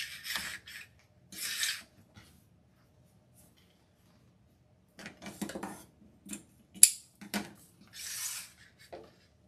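Scissors cut through orange deco mesh ribbon while a scarecrow wreath is being made, giving several short crisp snipping and rasping bursts with quiet pauses between them.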